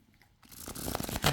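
A short burst of a Rider Marseille tarot card deck being riffled, a crisp rapid fluttering that builds after a quiet start and ends with a louder snap.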